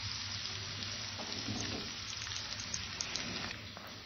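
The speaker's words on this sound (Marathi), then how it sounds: "पॅनमध्ये घ्यायचं आणि आपल्याला फ्राय करून घ्यायचं आहे" Seven chicken wing pieces shallow fry in a pan, a steady, even sizzle and hiss with light popping spatters close by, continuous throughout and no voices.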